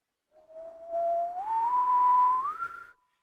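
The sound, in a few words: person whistling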